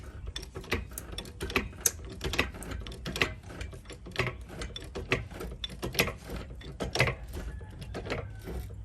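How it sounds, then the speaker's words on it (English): A scissor-style car jack being cranked under a 2014 Kia Soul to lift a rear wheel off the ground, giving a steady run of close mechanical clicks and ratcheting ticks alone with no talk. "Now we're gonna go ahead and jack it up so that the wheel comes off the ground."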